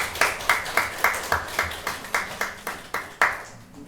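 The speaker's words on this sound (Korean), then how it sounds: "우리 성도님들 축하의 박수 주시고요" Church congregation claps in celebration at a dedication ceremony, about a dozen sharp, evenly spaced claps in a steady rhythm, fairly close, with no talk over them.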